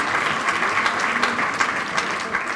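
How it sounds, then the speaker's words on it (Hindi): Audience at an Urdu poetry recital (mushaira) claps after a poem, a brief, even wash of many hands clapping from a moderate distance with no talk. "एक दफ़ा फिर तालियां बजाइए।"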